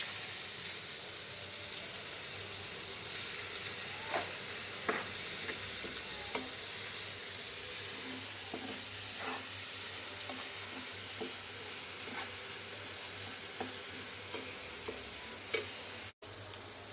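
Onions frying in oil in a pan, a continuous quiet sizzle with occasional soft scrapes and taps from stirring, fairly faint and steady throughout.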